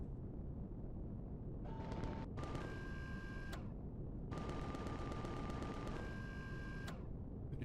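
Top-mounted turrets firing in Empyrion Reforged Eden: two rapid mechanical bursts, each sustained for about a second, loud and close with a steady background rumble.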